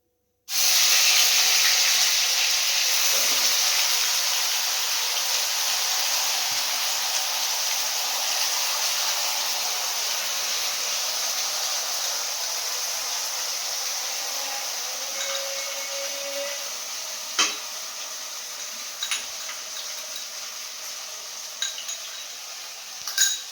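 Onion, garlic and ginger paste hisses steadily in a hot pan, a loud broad sizzle that fades gradually over time, with a few light clinks of a utensil near the end.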